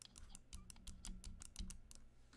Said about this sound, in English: That's what my clicking normally sounds like.